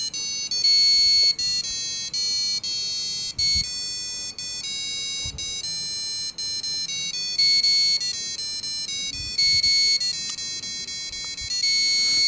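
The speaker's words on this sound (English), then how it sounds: "So what if you play some good, nice Christmas carol with our Arduino board?" A Christmas carol melody played by a piezo buzzer driven by an Arduino board, a loud, shrill, steady sequence of beeping tones changing pitch note by note, with faint clicks and rumble beneath.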